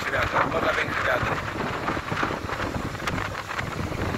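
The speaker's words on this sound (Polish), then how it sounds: "O, jeszcze większy wiatr." Strong coastal wind at Spijkenisse and Hoek van Holland in the Netherlands buffets the microphone in a steady, roaring rush with gusty low rumbles, loud and continuous throughout.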